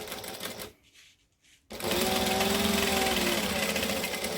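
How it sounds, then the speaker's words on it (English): A sewing machine stitches fabric in a tutorial setting, running briefly, pausing for a moment of near quiet, then starting again into a steady, loud, fast mechanical whir and rattle. No voices are heard. "stitch it to here, but I'm going to go back to my joining stitch length before I do"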